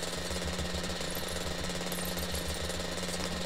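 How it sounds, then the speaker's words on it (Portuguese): A pizza delivery motorcycle's engine rattles loudly and continuously, a fast steady throbbing with no voices over it for a few seconds. "Que barulho é esse de moto"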